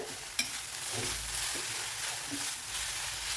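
Tomato greens (milagu thakkali keerai) sauté in a pan with a continuous close sizzle, punctuated by the scrape and clack of stirring.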